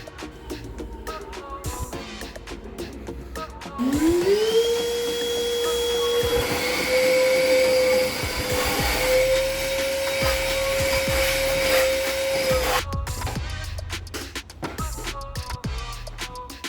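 An Ozito 18V cordless wet and dry vacuum whirs steadily for about nine seconds, its tone rising as it spins up, with handling noise before and after.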